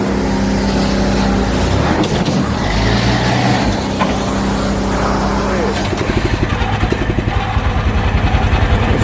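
A small block Chevy V8 engine runs loud and close for the whole stretch, its deep rumble settling into a rapid, even pulsing near the end, with people talking over it.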